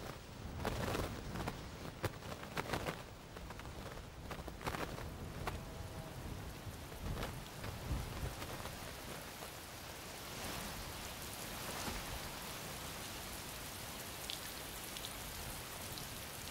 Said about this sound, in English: This rain might be more than just a passing shower.